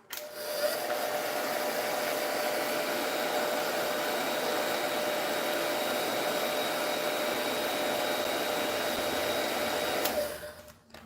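A hair dryer blows steadily to dry stencil paint, a loud continuous whirring airflow running close for about ten seconds before switching off near the end.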